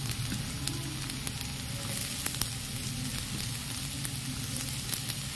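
Steady sizzle of capsicum added to browned onions frying in a pan, continuous and close with faint stirring clicks.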